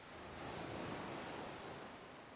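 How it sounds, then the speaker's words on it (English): Steady ocean surf ambience on a beach in the EverQuest game, a continuous broad wash of breaking waves with a soft wind-like hiss, moderately loud and unbroken with no voices. "I enjoy, like this, for example, being by the ocean."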